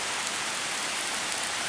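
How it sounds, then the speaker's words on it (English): Steady rain pours down outdoors on a summer day, a dense, even hiss of drops on surfaces with no pauses, fairly close and continuous. "What a nice rainstorm we're having here."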